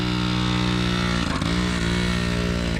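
The engine of a 1979 Yamaha QT50 moped, abandoned for 35 years, revs loud and close with a steady buzzing drone, dipping briefly midway as the throttle wavers before holding again.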